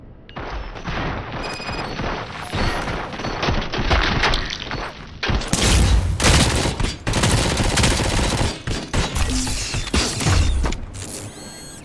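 Combat in the video game RoboCop: Rogue City: mechanical clanks and whirring first, then heavy, sustained gunfire bursts that roar loudly and break off in sharp gaps.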